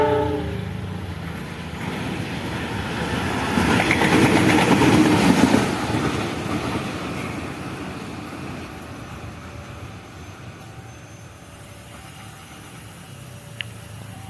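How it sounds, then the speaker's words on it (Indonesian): A CC 206 diesel locomotive on an Indonesian railway passes by, its engine roar and wheel rumble swelling to a peak midway and then fading into quieter rail noise, with a brief tone near the end. "Ini lokomotifnya pulang dari Purwosari ke Lempuyangan."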